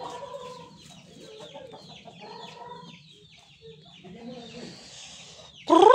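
A hen with her chicks on a farm makes soft, repeated clucks and peeps, mostly faint and close, before a louder, harsher call breaks in at the end.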